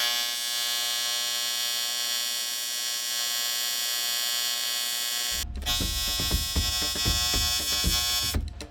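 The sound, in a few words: TIG welding new port onto two-stroke dirtbike engine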